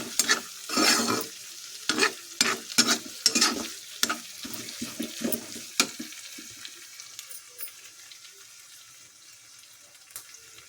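Food frying in a pan while being stirred, with a run of close scraping, clattering stirs and sizzle that thins out toward the end, leaving a quiet background hiss, no talk.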